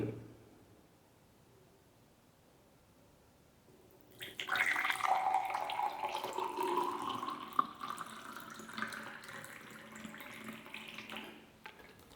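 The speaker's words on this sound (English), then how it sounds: "you're just gonna pour water inside the glass, just like this." Water poured into a glass, a steady trickling splash that starts after a few seconds of quiet, rises in pitch as the glass fills, then stops.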